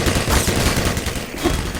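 A grenade blast in the video game Black Mesa, a loud dense burst of noise that keeps rumbling for the whole moment, crackling like heavy gunfire.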